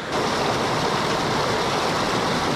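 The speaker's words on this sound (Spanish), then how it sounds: "Estamos aquí en la afluente del río" A river tributary in the Vall de Núria rushes steadily and loudly, a dense, unbroken wash of flowing water close by with no voices.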